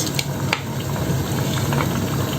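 Oil sizzles and bubbles steadily in a pan as fried fish goes into a curry of potato and cauliflower, with a few soft clinks and stirring noises close by.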